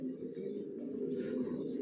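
Racing pigeons of a Janssen line coo in a loft, a low, continuous throaty murmur of several birds close by, with faint higher sounds above it.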